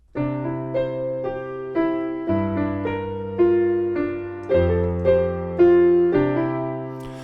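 A solo piano plays the gentle intro melody of a song over sustained bass notes, each new chord struck clearly in a steady, unhurried rhythm.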